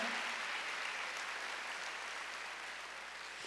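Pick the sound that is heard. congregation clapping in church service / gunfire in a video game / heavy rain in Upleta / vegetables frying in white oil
congregation clapping in church service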